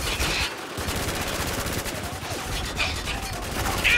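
Sustained gunfire rattles in the Spec Ops: The Line video game set in Dubai, a dense rapid-fire barrage of shots filling the whole stretch, loud and continuous.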